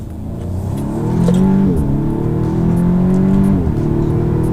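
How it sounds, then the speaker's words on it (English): A 2016 Audi S3 Prestige pulls hard through first gear, its engine note rising steadily in a loud, close, continuous roar with a brief dip where revs settle before climbing again. "So we'll try a first gear pull"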